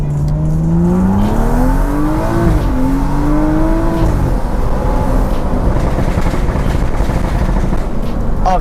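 A BMW 435i accelerates hard on a road, its engine note climbing sharply through one gear, dropping at a shift, rising again, then settling into loud road and wind roar as speed builds.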